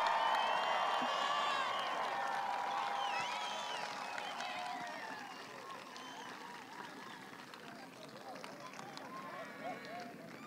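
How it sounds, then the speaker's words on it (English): Audience applause for eighth grade graduates at a farewell assembly, a dense steady clapping and cheering crowd that is loudest at the start and gradually fades to a lower level. "How about another round of applause for our eighth grade graduates?"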